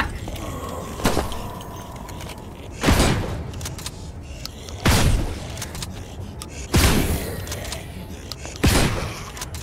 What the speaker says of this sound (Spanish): Pero que han estado cuatro tiros.